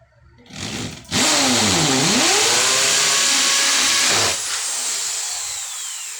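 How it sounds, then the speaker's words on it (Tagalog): A power drill bores a hole for a screw in a wall cabinet. The motor whines up loudly, dips and rises in pitch as the bit bites, then winds down over a few seconds, close and alone. "Bubutasan lang natin ng konti para malagyan natin ng screw."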